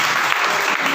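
An audience at a Jain religious gathering claps together in a brief, dense burst of applause, loud and steady for the whole second.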